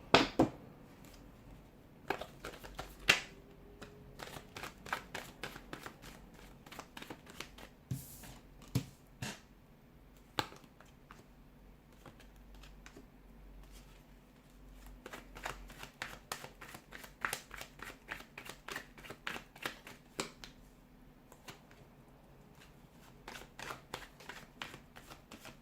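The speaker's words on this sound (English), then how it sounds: "give the cards a shuffle" Tarot cards shuffled by hand up close: repeated crisp riffling bursts and snapping flicks in irregular clusters, with quieter sliding card sounds in between.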